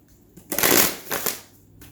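A deck of tarot cards is shuffled in one quick, close riffle lasting about a second, alone in a quiet room.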